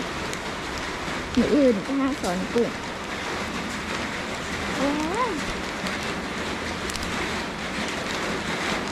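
Steady rain falls without a break in a village during a day-and-night downpour that has raised flood water. A voice speaks over the rain, and other faint tonal sounds come and go.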